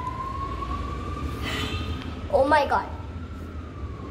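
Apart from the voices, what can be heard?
police siren passing outdoors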